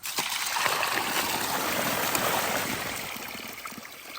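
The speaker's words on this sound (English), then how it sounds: "when I take this end off, you're going to see a lot of dirty water coming out" Dirty water gushes out of an opened 2-inch pipe end on a rainwater tank system, a close, continuous rushing splash that holds steady and tapers slightly, with no talk over it.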